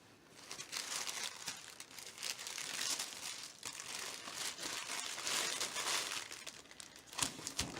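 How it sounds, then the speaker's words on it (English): Blue wrapping paper crinkling and rustling while a petite planner is unboxed, close and continuous handling with brief sharper tearing crunches, no talk. "Maybe I'll take the blue paper off."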